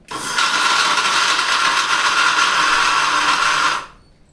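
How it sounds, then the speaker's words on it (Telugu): A kitchen mixer grinder whirs loudly and steadily for several seconds grinding sesame seeds and jaggery, then stops abruptly, leaving near silence. "ఇప్పుడు ఇది కొంచెం ఏమి బెల్లం కూడా వేసుకొని మిక్సీ చేసుకుందాం"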